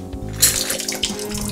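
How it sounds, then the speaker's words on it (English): Water poured out of a chilled cocktail stirring glass, a short splashing rush into a sink that swells after a brief start and trails off, loud and close. "Get rid of the water."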